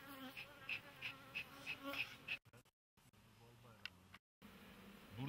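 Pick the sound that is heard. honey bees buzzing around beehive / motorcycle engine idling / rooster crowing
honey bees buzzing around beehive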